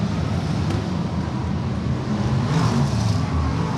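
BriSCA F1 stock cars racing round the Sheffield track at the 2004 British Championship, a continuous loud roar of engines from several cars lapping together.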